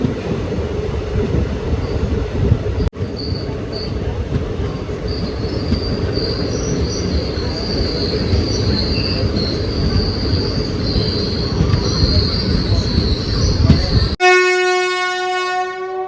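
Loud rumbling of a train pulling into Muthalamada station in Kerala, with clattering wheels and high metallic squeals, ending in a sudden sharp horn-like tone.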